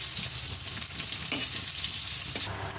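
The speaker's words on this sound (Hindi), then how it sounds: "ऑयल गरम था ही। और अब मैं इसमें ऐड कर रही हूँ प्याज।" Sliced onions frying in hot leftover oil with bay leaf and asafoetida, a steady close sizzle throughout that eases slightly near the end.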